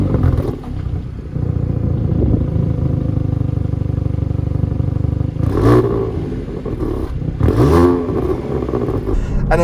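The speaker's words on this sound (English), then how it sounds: "you just hear a lovely burble coming out of the back of the car from the exhaust" A Hyundai i30 Fastback N idles with a deep, steady exhaust burble close by, with a few sharper blips rising over the rumble near the end.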